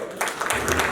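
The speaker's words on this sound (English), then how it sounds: "Can we please get a big round of applause for him?" Applause starts abruptly at a community Christmas and birthday party, with many hands clapping close by in a brief dense burst.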